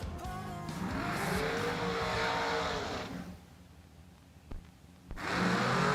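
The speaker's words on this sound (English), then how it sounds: "Today, you see it, two dragsters going at it." Two drag racing dragsters roar off the line at a drag strip, a loud harsh engine blast that fades after a few seconds, then a brief thud and renewed rumble.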